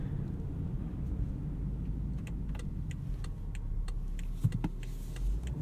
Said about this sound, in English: as you can hear, the diesel is just really quiet.